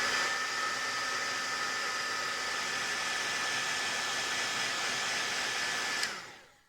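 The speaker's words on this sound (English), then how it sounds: "I just give it a little blast with the heat gun" Heat gun drying ink on stamped tissue paper, a loud, steady close-up blowing whir with a faint high whine, running evenly before switching off and trailing away at the end.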